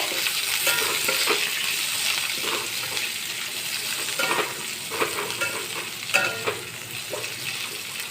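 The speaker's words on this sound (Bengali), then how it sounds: "পেঁয়াজগুলো ভেজে নেব।" Chopped onions sizzle steadily in hot oil with caramelised sugar and a little chopped tomato for a rohu fish curry, with intermittent stirring scrapes, close and continuous.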